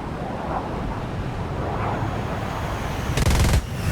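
Brief burst of F-86F-2 Sabre machine-gun fire in a jet combat video game, a rapid rattling volley near the end of a steady engine and wind roar.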